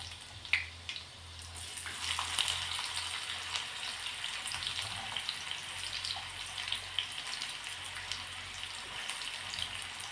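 Chopped onion fries in oil in a pan, giving a soft, steady sizzle with small crackles and a low background hum, fairly faint and without talk.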